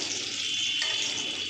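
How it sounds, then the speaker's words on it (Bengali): Lentil dumplings (bori) fry in hot oil over a lowered flame, giving a steady, even sizzling hiss that holds for the whole moment with no voices. "এবার বড়ি ভাজুক"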